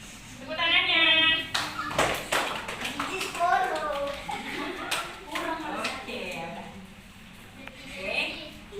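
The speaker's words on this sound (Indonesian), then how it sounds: "Tepuk tangannya." A class of pupils in an Indonesian school lesson claps their hands together, uneven bursts of clapping mixed with children's chatter and a teacher's voice throughout.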